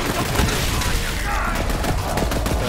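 Grenades explode in the video game Borderlands 3, a dense run of booms and crackling bursts that fill the whole stretch, with a voice speaking over the din.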